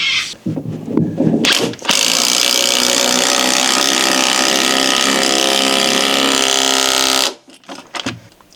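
A Bosch 18V impact driver drives a 75mm concrete screw in one loud, continuous burst of rapid hammering rattle lasting about five seconds, with short handling noises just before and after.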